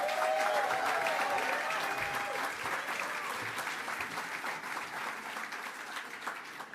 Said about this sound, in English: Everybody, big round of applause for Andrew So.